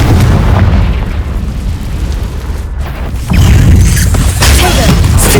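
A Confringo fire spell blast in the game Hogwarts Legacy: dense, rumbling booms fill the whole stretch, easing slightly in the middle before a heavier, louder burst of explosion noise takes over near the end.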